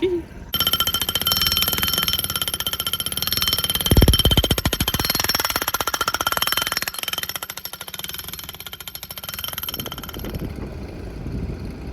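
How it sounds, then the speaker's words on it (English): A loud, steady mechanical drone with rapid rhythmic pulsing runs throughout, like a power tool grinding or hammering close by, easing off near the end. "now we got the power tools out"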